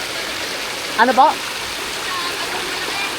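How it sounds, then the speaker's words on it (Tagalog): Clear spring water flows steadily at a natural spring in Nagcarlan, a continuous rushing wash close by, while a woman briefly asks a short question over it. "ito po yung mismong bukal"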